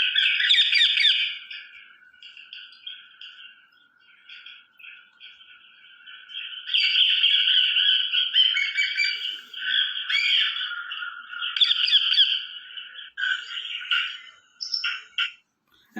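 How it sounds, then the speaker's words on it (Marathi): Parrots calling in the morning, bursts of shrill chattering and squawking calls that come and go over about sixteen seconds against a quiet background. "आता पोपट कशा पद्धतीनं सकाळच्या वेळेला आपल्या आवाजातून आपल्याशी संवाद साधत असतो ते आपण बघूया"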